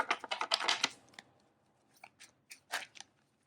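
Tarot cards are shuffled close by, a quick run of crisp riffling snaps at first, then a few scattered softer flicks and taps in a quiet room.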